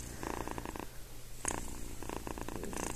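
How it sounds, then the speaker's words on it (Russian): A cat purrs steadily at close range while resting on a person's lap and chest indoors, a soft low continuous rumble pulsing in repeated breathing cycles throughout, with no talk over it. "Я не знаю, слышно вам, как это чудо мурчит."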